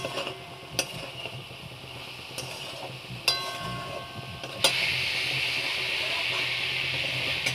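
Chopped tomatoes added to a pan for chitol fish curry, with a few sharp utensil clicks over a low sizzle that swells into a steady, louder frying hiss after the last clack.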